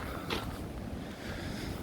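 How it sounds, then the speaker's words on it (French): Strong wind buffets a microphone outdoors during a walk with a dog, making a loud, constant rumbling roar with a brief gusty swell early on, and no voice. "Il y a beaucoup de vent, il y a même énormément de vent."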